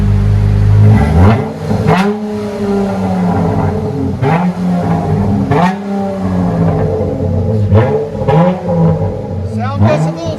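A 2013 Chrysler 300 V6 with dual Flowmaster Super 10 exhaust revs repeatedly, its engine note rising and falling in several close, loud bursts, and voices can be heard through part of it.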